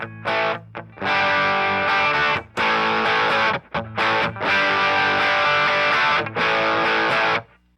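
Electric guitar through stacked overdrive pedals plays thick, saturated chords in loud bursts with brief gaps between, the tone fuzzy and compressed, with speaker distortion creeping in.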